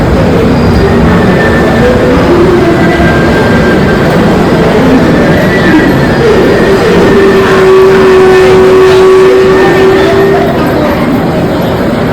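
A Holi special train from Karmali to Lokmanya Tilak Terminus rumbles loudly and steadily into Chiplun station, wheels grinding, with a long high squeal of brakes rising midway and holding for several seconds.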